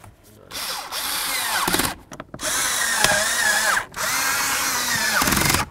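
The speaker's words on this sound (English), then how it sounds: "Start in all three of your bolts and then snug them up." A power tool snugs up the blower motor mounting bolts on a 2002-2008 Dodge Ram 1500: three loud, close whirring bursts that rise in pitch, with short pauses between them.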